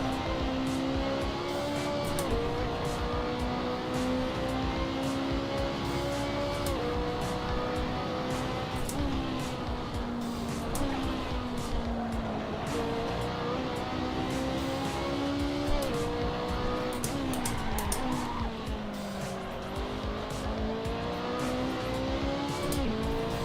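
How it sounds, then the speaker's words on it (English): Race car engine in a racing video game during hot lapping, revving up and down through gear changes with tire squeal, loud and continuous with no talk. "This is hot lapping, Shumi."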